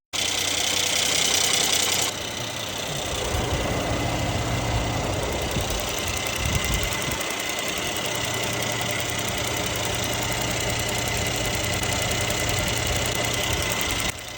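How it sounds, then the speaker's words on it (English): Mercedes-AMG C43, a salvage car being rebuilt after a wreck, starting up and settling into a steady, loud idle heard up close with a constant engine drone throughout. "Now, the moment of truth, it's time to turn on the car."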